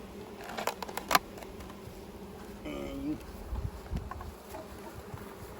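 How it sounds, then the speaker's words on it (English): Honeybees left behind in a nuc box, faint scattered buzzing close by with a few clicks and knocks of handling. "So there's still some bees left behind in here."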